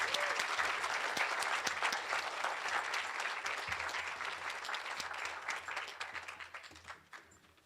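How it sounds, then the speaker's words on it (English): An audience at an awards ceremony claps in a long, dense round of applause that starts strong, then gradually thins and fades toward the end. "A round of applause, please."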